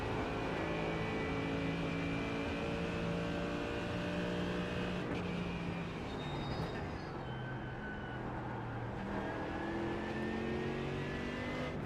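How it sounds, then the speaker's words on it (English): Damaged race car engine struggling in the iRacing game at the Nurburgring 24-hour race, a sustained loud droning whine with shifting engine tones and no speech. "I can hear the car, it's just like it's struggling."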